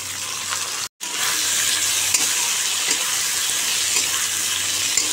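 Onions and chillies sizzle loudly in a hot pan with a steady, close hiss, broken once by a brief silent gap before the frying resumes.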